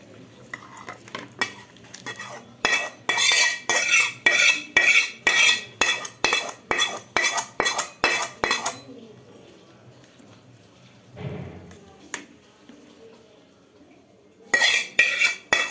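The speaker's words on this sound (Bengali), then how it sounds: "নাড়িয়ে নিলাম।" A metal spoon scrapes and clinks rhythmically against a cooking pot as food is stirred, with a long run of quick, loud strokes, a pause with a brief thud, then a few more strokes at the end.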